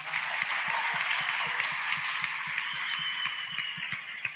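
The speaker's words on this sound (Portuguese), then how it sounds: "Queria palmas para o Rafa" Audience clapping in a hall at a sports marketing talk, a steady dense wash of applause throughout at moderate distance, with faint voices mixed in.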